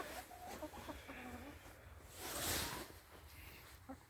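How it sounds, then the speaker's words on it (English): Soft, close clucking from backyard chickens, a few murmuring calls with a brief rustle in the middle, fairly quiet throughout. "Happy and healthy chickens"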